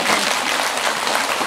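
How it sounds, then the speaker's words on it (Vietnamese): Applause from the gathered congregation at a Buddhist dharma assembly and memorial prayer ceremony at a temple, a dense, steady round of clapping that fills the whole stretch at close range. "Trong một tràng vỗ tay đi"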